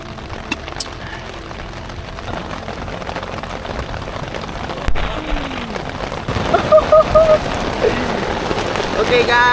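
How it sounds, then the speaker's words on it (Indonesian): Heavy rain from a storm drums on a shelter during solo ultralight camping on Mount Pangradinan, a steady dense patter with louder spattering bursts toward the end and faint background sounds. "hujannya besar sekali. Mantap. Diguyur hujan, badai."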